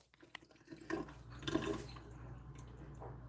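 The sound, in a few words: water running from a faucet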